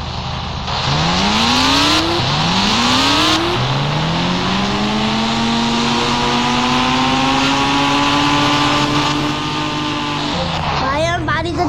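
Motorcycle engine in the Indian Bike Driving 3D video game, climbing in pitch through several gear shifts, then holding a loud, steady drone for most of the clip before cutting off near the end.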